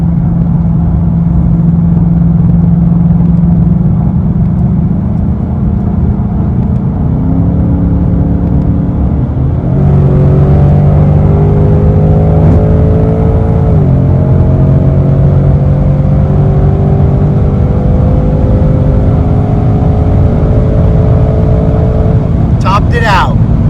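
A 2024 Ford Mustang running E85 flex fuel idles with a low drone, then revs up in stepped rising pulls as the engine climbs through gears, loud and close throughout.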